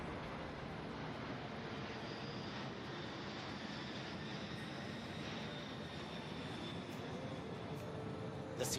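A Boeing C-17 military transport jet flies at an air show, its engines a steady, distant, broadband roar that holds evenly throughout without talk.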